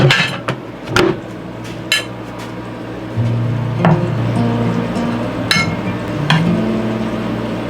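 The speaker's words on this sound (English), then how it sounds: "Get my plate out." A plate pulled out and set down in a boat galley kitchen, with sharp ceramic clinks and knocks at the start, then scattered clatters over a steady low hum.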